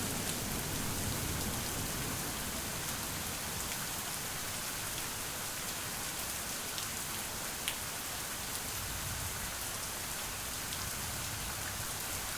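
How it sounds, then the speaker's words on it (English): Rain falls steadily in an even, dense hiss of drops on surfaces. It stays constant and fairly soft throughout with no voices. "The forecast called for on and off rain during the day, but pretty gnarly clouds."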